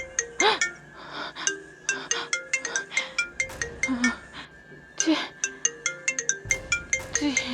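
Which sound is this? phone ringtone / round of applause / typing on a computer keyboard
phone ringtone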